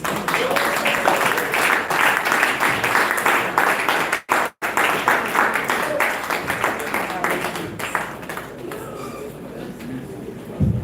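Sustained round of audience applause closing an academic lecture on research grants, dense clapping from a large room continuing steadily throughout, easing slightly toward the end.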